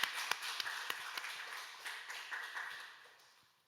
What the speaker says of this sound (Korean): 우리 하나님 아버지 앞에 감사와 영광의 박수 올려드리겠습니다